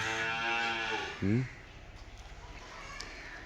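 A small buffalo calf being unloaded from a truck at the Kuzhalmannam cattle market gives one short, close moo after a stretch of talking.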